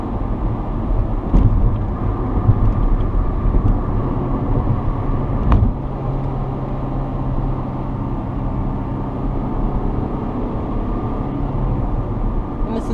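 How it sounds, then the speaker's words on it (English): Steady low engine drone from a 2002 Honda Civic Si being driven at night, a continuous moderate hum heard from inside the cabin with a couple of brief clicks over it and a voice talking throughout. "this is such a typical Honda engine that just begs you to rev it"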